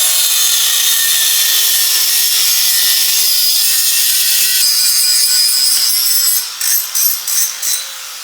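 A hand saw hacks steadily through an intake nipple on a car being prepared for a track day, a continuous close rasping that breaks into several separate strokes near the end.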